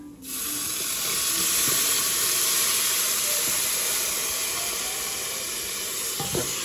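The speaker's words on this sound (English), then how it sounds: "So it's gonna be like a little steam coming out." Water hits a hot pan of ground beef and steams with a loud, continuous hissing sizzle that stays steady throughout, with faint stirring clicks near the end.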